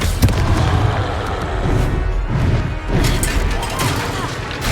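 Booming magical blasts from the Confringo spell in the video game Hogwarts Legacy, several heavy explosive thuds in quick succession over ongoing battle noise, with a voice calling out amid the fighting.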